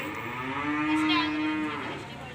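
A single long, deep moo from an ox, close and loud, rising and holding steady for about two seconds before trailing off, with no talk.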